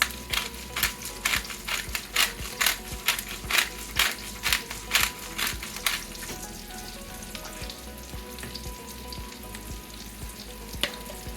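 Bacon and onions fry in a pan for haluski as the spoon scrapes and stirs in a quick, steady rhythm over a bed of sizzling fat. The stirring fades after a few seconds, leaving a continuous close sizzle.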